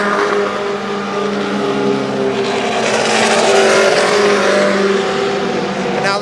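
Race cars roar around Kil Kare Speedway in Dayton, a dense pack of engines droning and rising as they circle, loud and continuous with a commentator's voice over them.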